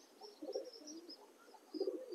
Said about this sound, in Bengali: তো চলে এসছি সকাল সকাল পায়রা লফটে।